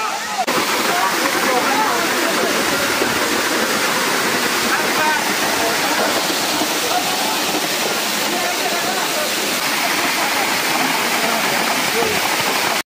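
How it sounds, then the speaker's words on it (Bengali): Suktadhara waterfall in the Sitakunda hills of Bangladesh, with people bathing beneath it, gives a loud, steady roar of falling water that fills the whole stretch; faint voices blend into the rush. "এটাই হচ্ছে সুক্তধারা ঝর্ণা। আমরা প্রায় অনেক নিচে নামলাম, আর ঝর্ণায় দেখেন সবাই গোসল করতেছে।"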